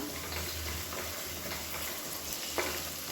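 Tomatoes with salt softening in a pan for a kuruma, giving a low, steady sizzle with faint stirring scrapes, close but quiet.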